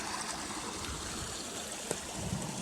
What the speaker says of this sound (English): see the white water rapids coming underneath it